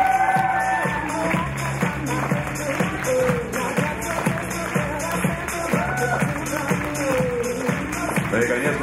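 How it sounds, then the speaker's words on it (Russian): A crowd at the Champions' Ball 2021 ballroom dance competition applauds and cheers the winners of the International Standard final, with steady clapping and whoops over rhythmic music. "Ну и, конечно же, овации победителям."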